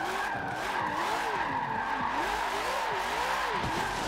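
Car tires squealing in a long handbrake drift in Forza Motorsport 7, a loud sustained skid with wavering pitch over steady engine noise, heard alone.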